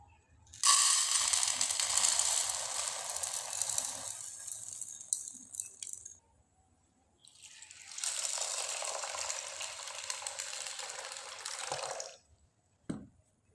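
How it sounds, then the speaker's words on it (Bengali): Chana dal lentils washed in water, a loud close rush of running and sloshing water in two long spells with a quiet gap between, ending with a brief clatter. "এবার ডালটা আমি ভালোভাবে ধুয়ে নেব।"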